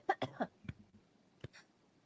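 A few short, quiet coughs, three in quick succession, then a pause and another brief cough with a breathy exhale.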